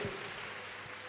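A church congregation applauds in a steady, dense wash of clapping that fills the short moment without any speech over it.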